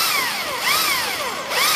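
A general-purpose adjustable-speed power drill drives fasteners into a UPVC roof sheet, its whine sweeping up and down in pitch twice, loud and close.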